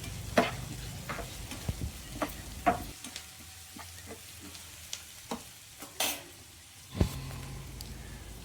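Onions sautéing in oil for a squid fry, a sizzling hiss that eases off partway while a spatula knocks and scrapes against the pan in irregular strokes, then the sizzle swells again.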